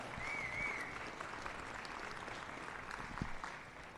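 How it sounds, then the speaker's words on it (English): Spectators at a junior beef cattle show applaud the exhibitors with a steady wash of clapping from a moderately distant crowd, with one sharper clap near the end. "let's make some noise and congratulate these exhibitors with a big round of applause"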